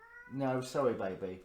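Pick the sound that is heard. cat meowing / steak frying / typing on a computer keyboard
cat meowing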